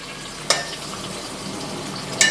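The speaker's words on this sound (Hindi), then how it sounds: "ये हमारा कॉपर का वेसल है, इसमें हमने जो छल्ले वाले 3 प्याज कटवा के हमें डाल देते हैं और इन्हें गोल्डन ब्राउन करेंगे।" Ring-cut onions fry in a copper vessel with a constant hiss of hot oil, punctuated by two sharp metallic clinks of a ladle against the rim.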